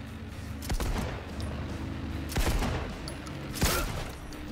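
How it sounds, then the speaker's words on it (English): Gunfire aimed at the player in Cyberpunk 2077, with three loud, sharp shots spaced roughly a second or more apart over a steady rumbling background of combat noise. "I'm being shot at."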